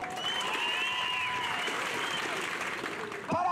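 A crowd at an outdoor village jaripeo ranchero celebrating the feast of the Virgin of the Nativity in a Mixe community applauds a contestant, with sustained clapping mixed with shrill whistles and cheers, ending in a sharp burst near the close.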